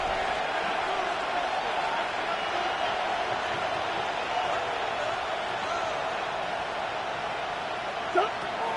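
A steady roar from a stadium crowd in the Madden football video game swells before a big third down, continuous and even, with a brief thump near the end.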